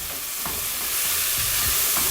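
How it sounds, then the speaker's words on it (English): Onions sizzle steadily in a hot pan used for lamb shanks, a loud continuous frying hiss with a few soft stirring knocks and no talking. "Now in the same pan, we're going to throw in our onions."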